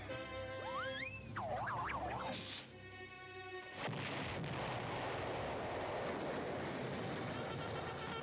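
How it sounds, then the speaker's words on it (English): A sharp, loud cartoon explosion sound effect bursts in after a brief whistling, warbling tone, then a long rumbling, crackling roar that fills the rest of the clip. "I've heard that explosion sound effect"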